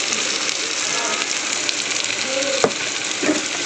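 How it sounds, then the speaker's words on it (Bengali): Spice masala with chili powder and a splash of water frying in a pan, a steady broadband sizzle with light scraping and a brief clink partway through. "জল দিয়ে কিন্তু মশলাটা একটু কষানো হয়ে গেছে"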